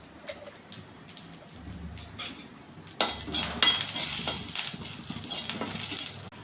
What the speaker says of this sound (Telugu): జీలకర్ర, ఎండుమిర్చి ఇవన్నీ వేగనివ్వాలి